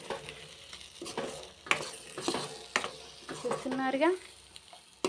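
Ridge gourd peel chutney mixture is stirred in a hot pan, giving a steady sizzle with repeated spoon scrapes and clinks against the pan. A voice talks briefly over it.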